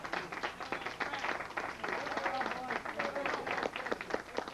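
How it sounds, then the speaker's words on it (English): Audience at a candlepin bowling match clapping for bowler Fred Spintig, a steady patter of individual hand claps, moderately close, continuing throughout at a low level. "And a well-deserved round of applause"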